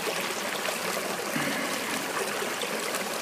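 Water is pumped through a Katadyn filter at a spring into a Nalgene bottle, a steady, close, rushing stream that stays loud and even throughout with no pauses.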